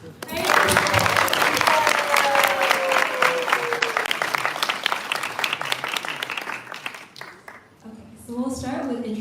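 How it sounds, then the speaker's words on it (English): A studio audience at a talk show breaks into a sustained round of applause for the guests, with whoops mixed in. The clapping fades, and voices speak near the end. "let's give a premature round of applause for our illustrious guests first"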